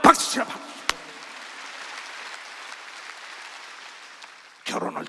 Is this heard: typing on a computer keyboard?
no